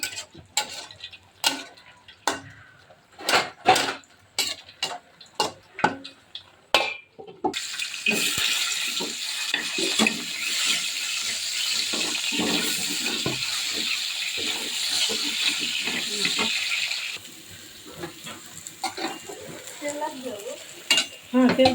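Leafy greens hit a pan of hot oil just after fish has been fried in it: sharp utensil clicks and taps come first, then a loud, steady sizzle that eases off near the end.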